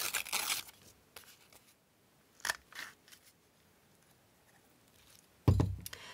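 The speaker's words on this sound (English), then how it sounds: "I'm just going to cut those out because they're just really fun" Scissors snip through paper pictures being cut out for a garden-themed journal, with a few close, crisp cutting bursts separated by quiet gaps and a louder thunk near the end.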